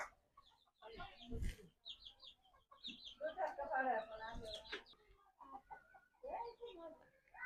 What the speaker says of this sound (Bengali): আসলে সব সময় মুরগি এই ঘরেই থাকে